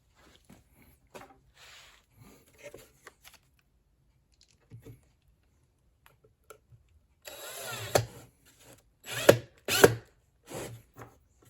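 A power drill drives a pan head screw into a drawer on a drill press stand, with short whirring bursts near the end after quiet scattered handling noises and clicks, close and alone.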